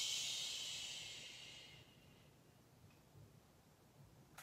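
A long shushing exhale during a seated chair yoga twist starts strong and breathy, then fades away over about two seconds into near quiet.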